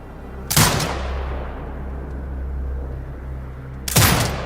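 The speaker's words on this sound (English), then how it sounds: "Exit binocular mode and command the turret to fire." A drone-marked turret in Sniper Ghost Warrior Contracts 2 fires two loud booming shots about three seconds apart, each followed by a long rumbling echo that fades.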